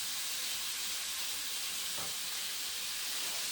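Bok choy and tofu stir fry sizzling in oil in a pan, a steady bright hiss held throughout with a faint brief clatter near the middle, no talk.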